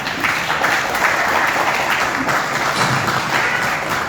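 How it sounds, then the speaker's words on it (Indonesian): An indoor crowd at a party press statement claps continuously, a dense, even patter of many hands at steady volume throughout with no pause. "tepuk tangan dulu"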